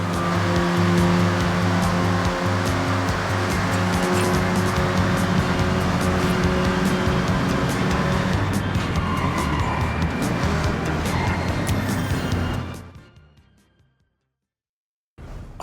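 Cars from the Forza Horizon 6 game drive through Tokyo, their engines roaring steadily and loud with tire noise for about twelve seconds, then fading quickly to near silence as they come to a stop and park.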